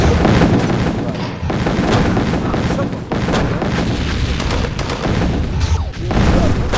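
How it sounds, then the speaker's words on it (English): Heavy fire pounding a base in a strategy video game, a dense, continuous roar of booms and shots at high loudness throughout with no pauses. "I'm taking heavy fire."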